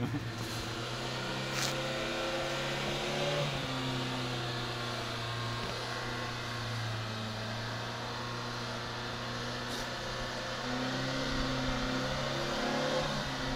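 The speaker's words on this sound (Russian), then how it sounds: "Зарядил газ в пол." A UAZ Bukhanka van engine, worn out and near failure, is held at full throttle, a loud, sustained roar whose pitch wavers slightly as it strains, with no talking.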